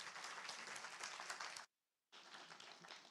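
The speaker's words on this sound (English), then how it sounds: "Please give a huge round of applause for Joseph Sassoon" Audience at a book talk applauds the author as he is introduced, a dense burst of clapping that cuts to total silence for about half a second, then resumes just as full.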